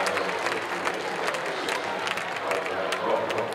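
A hometown crowd at a women's college soccer match between Pittsburgh and North Carolina applauds steadily, a dense, continuous wash of clapping and crowd noise that holds at an even level throughout.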